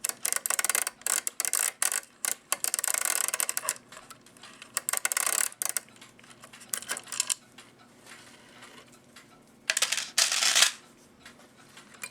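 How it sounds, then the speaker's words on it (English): Clicker mechanism of a musical cuckoo clock with dancing figures and a Regula 25 movement, clicking in bursts of rapid, close ticking with quieter gaps, no talking. "It's not clicking the same as the other one."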